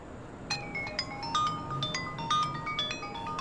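A mobile phone ringing with a bright melodic ringtone, a repeating pattern of short electronic tones that is moderately quiet against a faint indoor background, with no talk.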